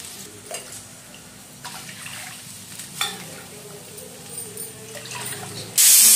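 Water poured into a hot pan for rava upma sizzles and hisses steadily near the mic, with faint stirring and clinks, ending in a sudden loud burst of hiss.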